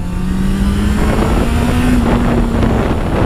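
A Honda CBR 650 F motorcycle engine drones with a steady buzzing hum while riding, overlaid by heavy wind rush across the microphone.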